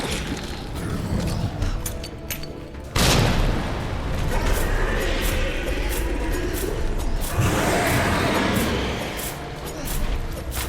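A thrown grenade goes off in Resident Evil 2 with a heavy boom, followed by a rumbling, crackling roar that swells and fades over several seconds amid game mechanisms and debris noise.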